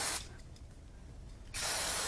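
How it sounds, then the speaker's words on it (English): Spray glue hisses from an aerosol can in one short, steady burst of about one and a half seconds, close and fairly quiet, with no talking. "So I'm going to use a little bit of spray glue."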